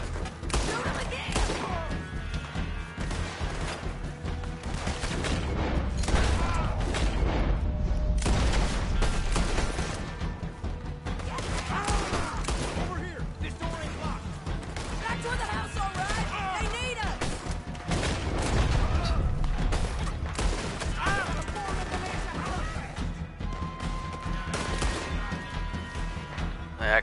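Bursts of gunfire from the Red Dead Redemption II western game fill the scene, dense overlapping shots and crashing impacts in a continuous fusillade with voices talking underneath.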